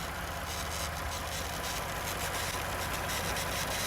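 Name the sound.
Ford F-150 3.5L EcoBoost engine idling hot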